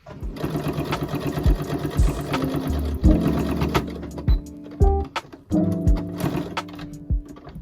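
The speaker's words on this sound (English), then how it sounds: "So sew it all the way and then stop at the seam of the side here" A sewing machine stitches fabric for a ferret ramp tent, running in steady bursts with short stops and restarts, close and fairly loud with a few soft knocks between runs.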